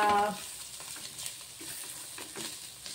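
Oil sizzles steadily in a heavy, thick-bottomed pot as food fries, with a brief louder burst at the start, then a close, even crackle and occasional stirring scrapes.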